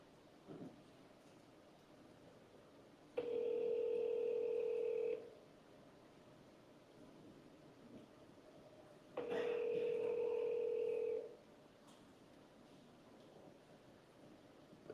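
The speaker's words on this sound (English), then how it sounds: "Transferring the call now." Two steady electronic telephone tones of a call transfer, each lasting about two seconds, sound several seconds apart over faint background hiss.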